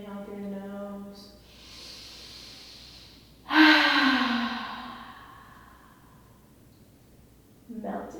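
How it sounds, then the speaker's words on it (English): A slow, deep breath drawn in through the nose during a closing Savasana rest in a power yoga class, a long airy rush rising and fading, with a calm voice speaking before it. "Deep inhale through the nose."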